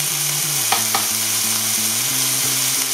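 Beef kidneys searing in a hot pan for a red wine dish give a steady, close sizzle that runs throughout, with a few brief clinks and stirring sounds breaking in.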